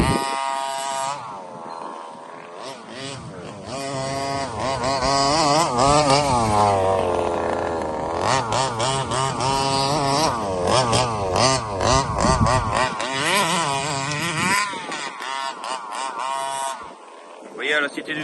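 Radio-controlled mini race cars running on an outdoor RC track, a buzzing high-pitched engine whine that rises and falls continuously as the cars accelerate and slow, fairly close and loud.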